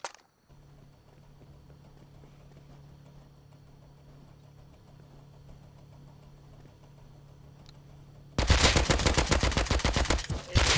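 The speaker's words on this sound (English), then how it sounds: "It's a silencer on it." Suppressed gunfire in a game: a quiet stretch with a low engine-like hum gives way near the end to a loud, rapid burst of muffled shots firing in quick succession.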